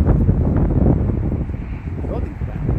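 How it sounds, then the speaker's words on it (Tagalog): Strong wind buffets the microphone outdoors near a Golden Corral restaurant, a steady broadband roar that swells and eases over a few seconds, with people talking underneath. "Ang lakas ng hangin."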